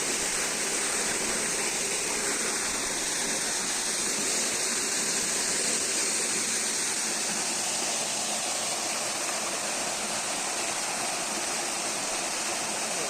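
A cold, clear mountain stream flows over stones in a steady, dense rush of water that holds the same level throughout, close by and with no voices.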